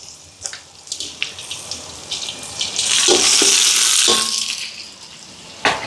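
Onions and other vegetables sauté in a pan while cooking food for the poor in Sri Lanka, with scattered utensil clinks and taps around a swelling burst of sizzling in the middle, then a sharp clatter at the end.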